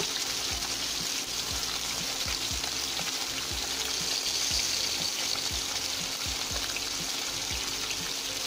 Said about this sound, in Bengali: এভাবে আস্তে আস্তে করে মাছগুলো ভেজে উঠিয়ে আবার ঢেঁড়সগুলো ভেজে নেব।